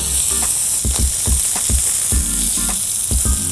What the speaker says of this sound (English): it has to reduce because now the mushrooms are cooking in the broth